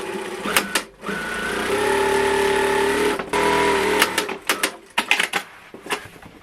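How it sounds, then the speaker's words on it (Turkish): A sewing machine stitching a floor cushion with a topstitch seam, running in a steady whirring burst for about two seconds, then short stop-start runs and clicks close by. "Ters çevirdiğimizde etrafında birer buçuk santimlik spor dikiş yapacağız."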